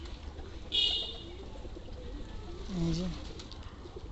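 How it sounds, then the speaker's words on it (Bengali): Pigeons coo near a farm loft where they come to drink from a bucket, a couple of soft low coos rising briefly around the middle and end while someone speaks quietly over steady outdoor background noise. "ওই যে দেখেন কবুতরের সুন্দর ডাক, এগুলো ডাকে সুন্দর"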